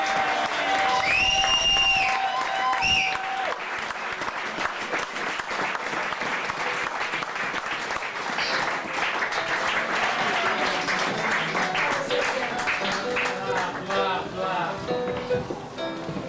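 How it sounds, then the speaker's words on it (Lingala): A church congregation applauding and cheering loudly for Maman Esther Bongo. Sustained, dense clapping runs for over fifteen seconds, with a voice and music tones over it at the start. "Si vous pouvez acclamer très très très fort pour elle."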